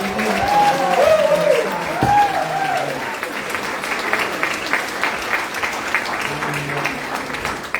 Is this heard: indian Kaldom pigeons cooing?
no